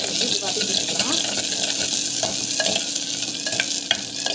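Vegetables sauté in a pan with a constant sizzling hiss, overlaid by repeated scraping stirs and occasional light taps of a utensil, loud and close.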